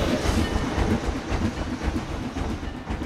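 A ride train in the video game Planet Coaster rolls along with a continuous rumble and rhythmic clickety-clack wheel beats, at moderate level and without talk.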